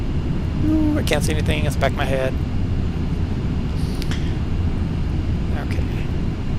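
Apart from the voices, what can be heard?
Boeing B-52H Stratofortress engines in Flight Simulator X video game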